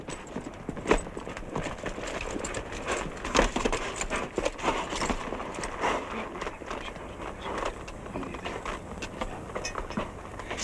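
Horse hooves clip-clop in a steady walking rhythm through a dusty frontier scene, the sharp knocks repeating at moderate loudness over a low background rumble with no talk.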